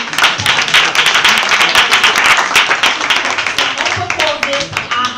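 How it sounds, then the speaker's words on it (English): Audience at a youth empowerment homecoming show claps steadily for about five seconds, a dense, close wash of hand claps with voices and cheers mixed in. "Clap it up for God."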